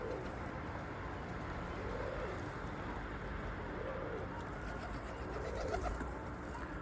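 Bango pigeons cooing softly in low, repeated rolling coos, faint and somewhat distant against a steady outdoor background hum.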